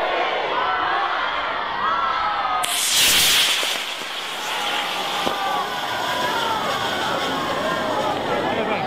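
Model rocket car launching across a school playground for a Guinness world record attempt: a sudden loud roaring hiss bursts in over a cheering, shouting crowd and fades after a second or two, with chatter and cheers continuing.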